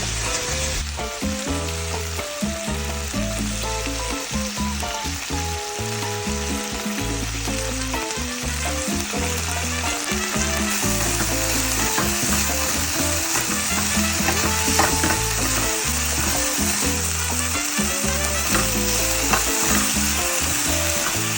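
Chicken sears and sizzles in a hot pan for a teriyaki stir-fry, a loud, steady frying hiss with crackles and stirring scrapes running continuously, no voices.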